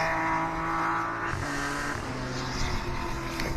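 Racing cars on the Donington Park circuit during a Liqui Moly Slicks Championship race, including a Porsche 991 and an Intersport BMW, roaring loud and close with a sustained engine drone and one car rushing past near the middle.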